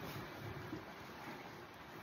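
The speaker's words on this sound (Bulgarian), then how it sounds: "Силен студен вятър има от север." Strong cold north wind blowing outdoors on a fishing trip in Ireland, a faint, steady broadband rush of wind with no voices.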